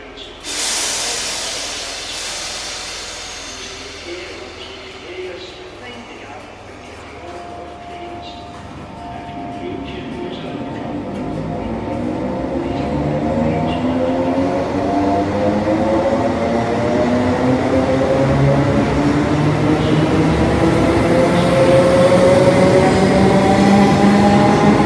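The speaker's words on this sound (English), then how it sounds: "I think these trains sound great when accelerating." A Class 318 electric train accelerating, its motor whine climbing steadily in pitch as the power builds, growing louder over a rushing, hissing background with no speech.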